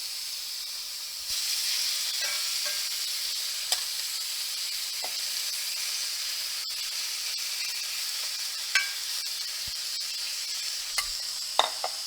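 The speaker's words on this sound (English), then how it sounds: "We're going to go back to the pan and put in the meat that we want on that particular sandwich." Beef sizzling in a frying pan for Philly cheesesteak, a steady bright hiss of frying that jumps louder as the meat goes in, with occasional small pops and clicks and no talking.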